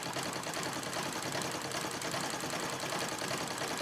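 A Singer 66 treadle sewing machine running steadily while doing pebble-stitch free-motion quilting, a continuous busy mechanical whir at even loudness, close and uninterrupted throughout.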